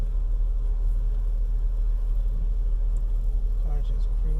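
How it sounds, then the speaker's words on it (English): A car cruises along in city traffic with a constant low rumble and road noise. Faint voices are heard over it. "Car just cruising along"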